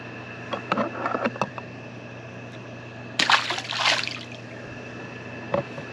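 A small snook slips back into the water on release, giving brief light splashes and trickles up close, with a short burst of splashing midway and a faint drip near the end.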